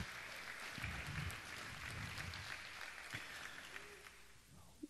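Audience at a Stockton youth town hall claps in a fairly soft, steady patter that runs throughout, with a few low bumps and shuffles underneath.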